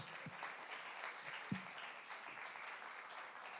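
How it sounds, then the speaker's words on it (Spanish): Applause from a church congregation welcoming visitors, a steady wash of clapping held at an even level throughout, with a couple of sharp louder claps standing out. "les damos un aplauso de bienvenida, bienvenidos."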